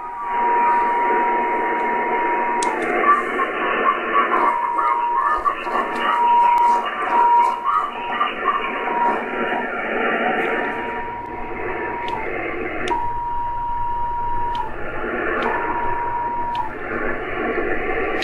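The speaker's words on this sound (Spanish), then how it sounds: "¿Cómo protegerse contra una portadora como esta?" A steady radio carrier interferes on an amateur radio frequency, producing a continuous buzzy hiss with tonal whines that shift and pulse over a long stretch, loud and close through the receiver.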